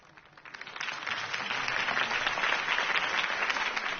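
A crowd in a Batman video game applauds after a political campaign speech, clapping swelling up over the first half second and then holding as a dense, even roar of hands.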